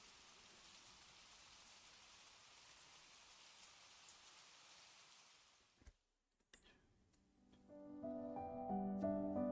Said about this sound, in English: They hurried towards the house through the heavy current of rain.